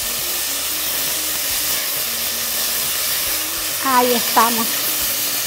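Garlic sizzles in a hot pan while watercress soup is cooked, a steady close hiss of frying that continues throughout as someone briefly speaks over it.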